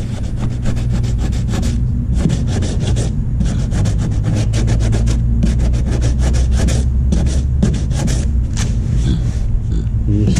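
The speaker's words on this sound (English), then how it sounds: "now that he's gonna start sanding it now" Steady, continuous sanding on the plug for a 14-foot panga boat hull mold, a loud, close scratchy rasp with rhythmic back-and-forth strokes over a low rumble, and no speech.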